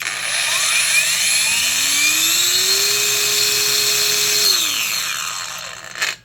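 High-pitched whine of a Kimo 20V brushless 4-1/2 inch angle grinder motor spinning steadily, then winding down with a falling tone and a final clunk, loud and close.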